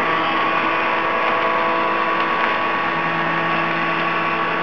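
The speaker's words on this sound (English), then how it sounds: "just hit draw in a vacuum on it" A Minipack MVS 31 chamber vacuum sealer runs its pump to draw a vacuum, giving a constant, loud mechanical hum with steady tonal whine and no interruption.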